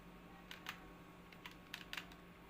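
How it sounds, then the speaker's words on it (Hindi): Faint, scattered clicks of keys being typed on a computer keyboard, a few quick taps in small clusters over a quiet steady background hum. "कीबोर्ड"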